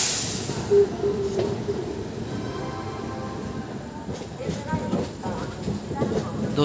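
Train rolling through the Juhi yard area near Kanpur Central on an Indian Railways run toward Haridwar, a steady rumble of wheels and carriages with faint rhythmic clatter under continuous nearby noise.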